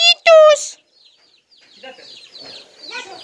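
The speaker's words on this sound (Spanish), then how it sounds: "Eso es el sonido pío, pío, pío, pío, pío." Young chicks in a farmyard give faint, high, thin peeps in scattered short bursts after a louder opening call, and nothing else intrudes.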